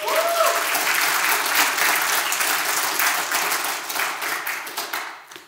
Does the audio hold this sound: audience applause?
yes